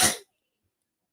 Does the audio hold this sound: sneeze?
yes